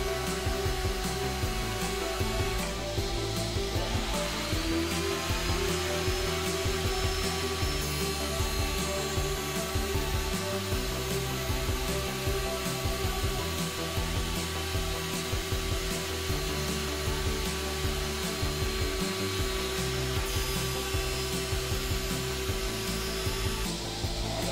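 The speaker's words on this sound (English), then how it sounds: "Here I wanted to show the strength of the power feeder, probably taking almost a 5 millimeter cut." A shop-made power feeder drives boards through a router table with a deep cut of almost 5 millimetres, giving a steady, loud, continuous whine of motor and router with a constant woody grinding underneath throughout.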